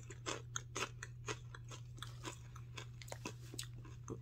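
Close, quiet chewing of crunchy Disney caramel apple popcorn studded with dried apple chips, with a series of irregular crisp crunches and bites repeating throughout.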